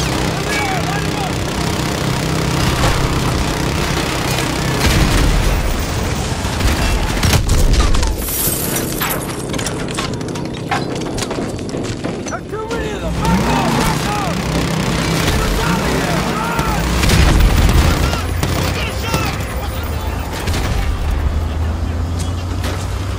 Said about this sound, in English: We're taking sniper fire